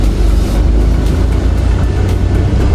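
A manual-transmission car engine hums at a low, steady drone as a little throttle is applied while pulling away in first gear. The sound is close and continuous, with no talking over it.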